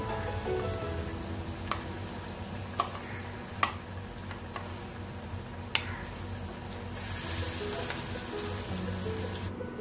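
Batter-coated besan vadas fry in hot oil with a soft, steady sizzle, punctuated by a few sharp crackles and pops, faint and close, with no one speaking.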